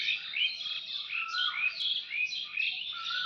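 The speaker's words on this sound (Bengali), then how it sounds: "কি সুন্দর কোকিলের ডাক" An Asian koel calls outdoors in the morning, a run of repeated rising whistled notes at a moderate distance, clear against a quiet background.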